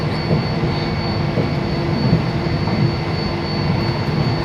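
Steady rumble of an old train in motion, heard from inside a carriage, with continuous low engine and wheel drone and a faint high whine throughout, no voices.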